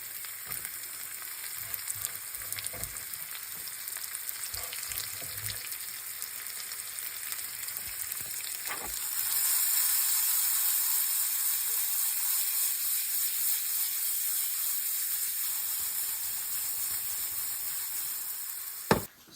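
Spices and chopped onion fry in a home kitchen pan, a steady broadband sizzle that swells louder partway through, with faint stirring scrapes and a sharp clatter at the very end.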